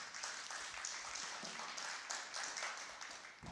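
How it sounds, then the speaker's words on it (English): Steady audience applause at a tech conference event, dense and continuous clapping from a crowd for the full stretch, fairly distant and even in level. "a big round of applause for them please"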